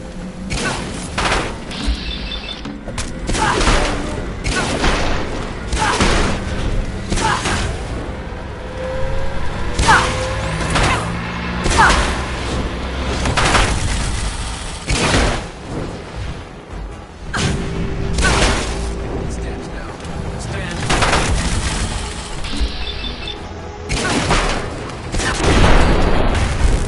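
Dense bursts of gunfire and booming explosions from a video game battle run loud and continuous, with whooshes and crashes layered throughout and scarcely any pause.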